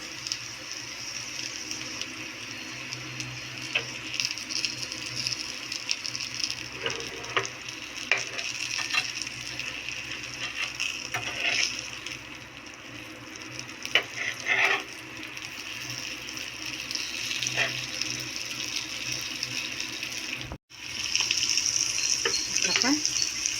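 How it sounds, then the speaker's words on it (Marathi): Stuffed okra (bhindi) fries steadily in hot oil in a pan, giving a continuous close sizzle with occasional scraping and turning sounds, and a brief drop near the end before the frying resumes. "तेलावरती आपण भेंडी भाजून घेणार आहोत."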